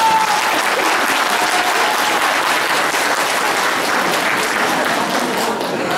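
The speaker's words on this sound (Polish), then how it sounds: "chciałabym zapewnić mu dzisiaj gromkie brawa" Sustained applause from a crowd at an awards gala, steady and loud throughout, with dense clapping filling the whole stretch.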